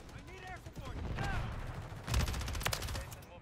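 Rapid SMG bursts from the HRM 9 in Modern Warfare 3 crackle in quick rattling strings over game noise, with a louder, heavier volley near the end and a faint voice underneath.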